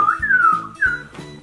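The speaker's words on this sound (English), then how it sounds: "Oh, it's making noises. It's like whistling at you over here." A Fingerlings interactive toy whistles two short sliding phrases, each dropping in pitch, close and clear over faint low toy sounds, with no talking.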